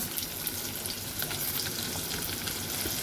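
Chopped onion hits hot oil already seasoned with asafoetida, giving a dense, continuous sizzle and crackle that fills the whole stretch, close and fairly loud with no voices.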